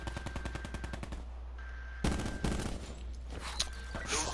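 Rapid automatic fire in Black Ops 4 rattles in fast, evenly spaced bursts, pausing briefly, then resuming with heavier shots and scattered impacts, loud and close throughout.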